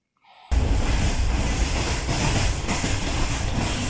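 Pakistani passenger train 90-43 leaving Karachi Cantonment station, heard from on board. Loud rolling rail noise cuts in abruptly and continues as a dense, steady rumble with slight rhythmic variation and no voices.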